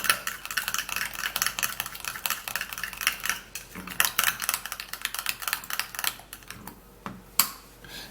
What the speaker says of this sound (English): You have to stir it all up.